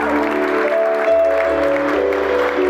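Loud, continuous clapping from an audience fills the clip, with a steady tonal hum running beneath it.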